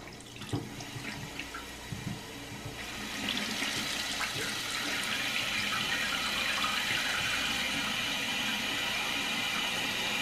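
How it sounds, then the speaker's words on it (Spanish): Water runs steadily into a toilet tank refilling after a fill valve repair in a bathroom, a hissing rush that starts softer and grows louder after a few seconds, then holds steady. "A esperar a que se llene el tanque."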